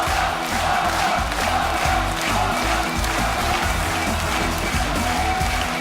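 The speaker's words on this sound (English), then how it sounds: "And look at that crowd." A live crowd at a StarCraft 2 WCS Premier League quarterfinal esports match roars and cheers continuously, loud and dense, with a rhythmic chanting pulse running underneath.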